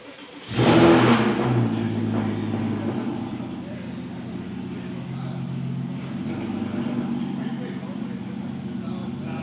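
A Porsche Cayman S on BC Racing coilovers starts up with a sharp rev, then settles into a steady engine drone as it pulls out and drives off, fairly close.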